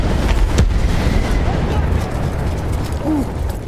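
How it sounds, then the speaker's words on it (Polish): A heavy explosion in the World War I shooter Battlefield 1 booms with a low rumbling burst and a lingering roar, followed by scattered game noise, with someone talking briefly over it. "Za piękny wybuch."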